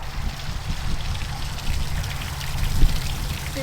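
Water trickles and splashes down a small waterfall into a garden fish pond, a continuous close babbling with small irregular drips and gurgles over a low steady wash, with no voices.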